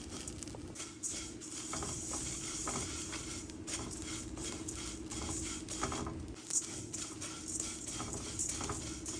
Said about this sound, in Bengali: এবার উল্টিয়ে পাল্টিয়ে চিড়াগুলোকে ভেজে নেব।